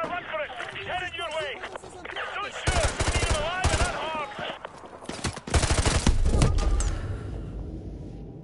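Bursts of automatic gunfire from the No Russian mission of a video game, loud and dense in the middle and later stretches, mixed with game sounds and someone talking over parts of it.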